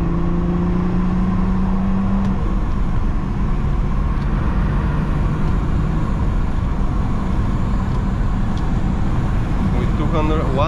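A remapped BMW E34 525 TDS Touring diesel accelerates at full throttle, a loud continuous drone of engine and road noise heard from inside the car without letup.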